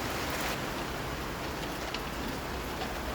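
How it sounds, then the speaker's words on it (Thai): Steady rain falling outdoors, a dense, even hiss that holds without a break from start to finish, with no voices over it. "ฝนตกอะรู้ไหม"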